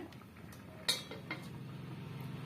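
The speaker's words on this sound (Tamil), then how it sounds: "மேலே ஒரு மூடி போட்டு மூடி விட்டுருங்க" A single clear metallic clink of a lid set onto a pot on a medium flame, followed by a couple of softer taps, over quiet kitchen background.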